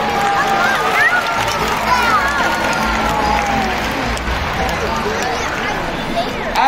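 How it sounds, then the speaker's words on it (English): A large crowd applauding and cheering at a SeaWorld San Antonio whale show, dense clapping that fills the space throughout, with voices mixed in. "give yourselves a big round of applause"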